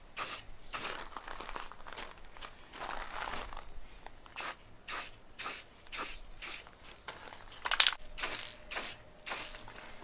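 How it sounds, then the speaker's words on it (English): Rust-Oleum high heat clear coat is sprayed from a can onto the bare metal of a drum smoker in short repeated hissing bursts, with a rattling can-shake sound partway through, nearby and with no one speaking. "The paint I'm going with is a Rust-Oleum high heat clear coat"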